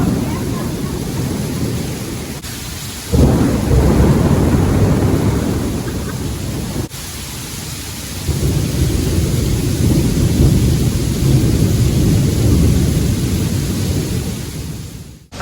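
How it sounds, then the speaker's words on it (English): A heavy thunderstorm in Singapore: loud, dense rain roars continuously with deep rumbling thunder swelling through it, loud throughout with brief dips, no talk. "it started to rain extremely hard, and this turned into the longest and craziest thunderstorm I've ever experienced"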